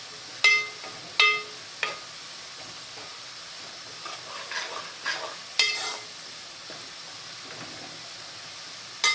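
Onions frying in a pan for prawn curry give a faint sizzle, broken by several sharp scraping stirs of a spoon against the pan.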